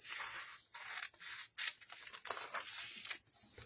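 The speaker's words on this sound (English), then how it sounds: "So I'm going to cut this picture out" Scissors cutting out a paper picture for a camera picture frame craft, with repeated close, crisp snips and the slide of the blades through the sheet in a quiet room.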